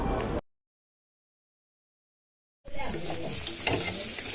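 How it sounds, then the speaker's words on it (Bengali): Long beans and potatoes frying in a pan give a brief sizzle, then a gap of silence, then a louder close sizzle with stirring and clatter. "বরবটি আলু ভাজাও হয়ে গেল"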